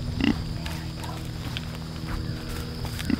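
Low grunts from a pig, heard twice as short snorting bursts near the start and end over a steady farmyard hum and faint shuffling.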